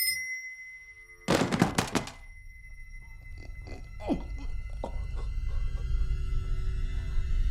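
A small hand bell rung in a film scene gives a few bright clustered strikes, then lighter scattered rings over a low, steady background hum.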